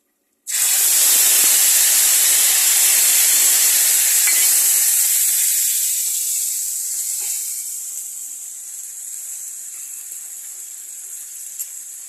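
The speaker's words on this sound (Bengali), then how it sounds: "দেখো মশলাটা কেমন করে ভেজে নিচ্ছি আমি একদম" Spice paste of garlic and onion frying hard in a hot pan for a Bengali fish and pumpkin dish, a loud close hiss and sizzle that bursts in and then eases to a steadier, softer sizzle.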